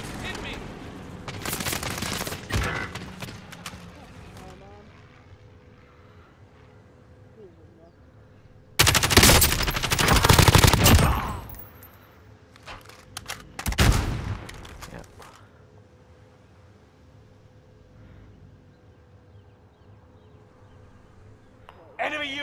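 Gunfire in a Call of Duty online match, with dense bursts of rapid shots in clusters, the loudest volley lasting a couple of seconds, over steady game ambience.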